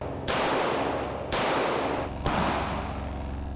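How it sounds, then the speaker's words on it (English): Three loud, sharp 9mm gunshots crack at an outdoor range, fired at a bullet-blocker backpack, each blast trailing off in a long echo, spaced about a second apart. "We're going to use a 9mm. The bullet blocker is advertised to withstand these rounds."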